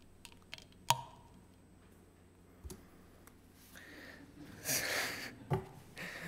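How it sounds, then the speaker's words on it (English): Faint, sparse sharp clicks from the mandibles of an Ips typographus bark beetle snapping forward over the ground, heard up close against a quiet background with a few scratchy rustles. "the mandible loosens and snaps forward over the ground. And this creates a clicking sound"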